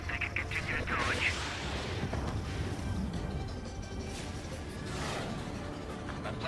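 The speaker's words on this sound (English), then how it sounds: "Did you see that explosion?" An explosion in the PS4 game Ace Combat 7 during a mission with aircraft among clouds: a rumbling blast blended into a constant roar of jet engines and whooshes, moderately loud and sustained, with no clear speech.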